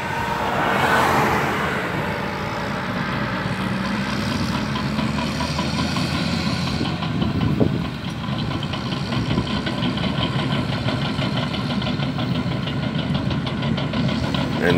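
A small Volkswagen car engine idles nearby with a continuous, moderately loud rumble and faint rhythmic ticking, steady throughout with outdoor background noise and no clear talk.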